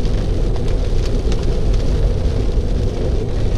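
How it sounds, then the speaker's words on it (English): Rain patters and rumbles against a Tesla Model 3 driving on Autopilot through a dreary, stormy Las Vegas day, a loud dense wash of rain and road noise with no talking. "It is a nice, dreary, rainy day here in Las Vegas."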